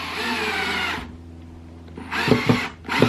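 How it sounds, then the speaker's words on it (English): Power drill driving pocket hole screws into wooden boards for a rustic bedside table, a steady whine that cuts off, a pause with faint handling, then two short bursts as the screws seat. "I'm just going to go along here and put in the pocket hole screws just as before."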